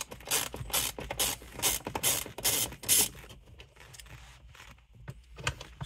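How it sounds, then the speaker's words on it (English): A T20 Torx bit is wrenched off the bolts holding a Porsche Boxster airbag, giving a burst of rapid ratcheting clicks followed by quieter, scattered clicks and small mechanical rattles, close up with no talk. "The tool for the job for these four bolts is the T20 torque head."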